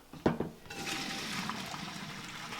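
Steady rushing water pours into a kitchen sink as pasta is drained under a running cold tap, preceded by a couple of short clattering knocks, then a continuous close wash of splashing liquid.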